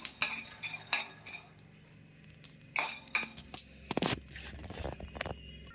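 Peanuts roast in a pan and are stirred, giving intermittent metallic scrapes and rattles of the nuts against the metal, loud and close with brief pauses between strokes.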